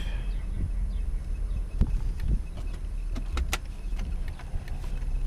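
Lincoln LS on a test drive after a cluster gauge repair, heard as a steady low road and engine rumble from inside the car, with scattered clicks and rattles and no talking.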